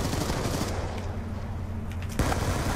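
Black Ops 2 multiplayer gunfire: dense, rapid automatic shots pattering steadily at moderate loudness, easing briefly before another sharp burst near the end.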